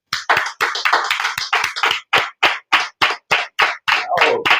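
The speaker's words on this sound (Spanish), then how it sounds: "realmente queremos darle un aplauso al Señor" Hand clapping in a church interview setting, first a dense cluster of overlapping claps, then slower, separate sharp claps in a steady rhythm, close and loud, with a brief voice near the end.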